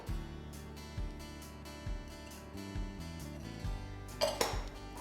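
Dry ingredients for gluten-free brownies, cocoa and almond meal, tipped into a mixing bowl, giving soft repeated thuds and clinks of utensils against the bowl, with a louder clatter near the end; no talking.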